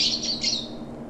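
Two quick squawking chirps from birds in the video game Path of Titans ring out close and bright over a low steady hum, then trail off.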